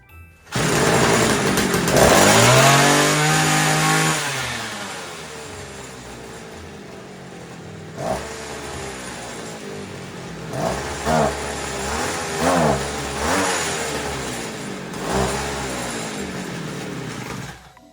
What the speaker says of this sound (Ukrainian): В цьому тримері насправді як будто би мало холостого ходу він не тримає холостий.